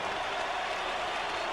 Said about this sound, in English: how about a round of applause for a young challenger here tonight who showed a great amount of courage and fighting heart